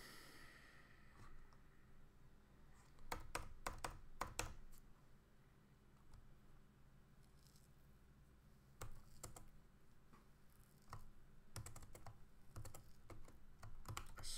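Typing on a computer keyboard during a live-coding session, with scattered bursts of clattering keystrokes, some quick runs and pauses between, fairly close but quiet over a low background hum.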